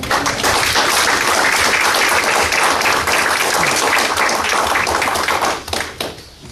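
Loud, close audience applause after a lecture on gender violence at a preparatory school, dense rapid clapping that runs strongly for nearly six seconds, then tapers off.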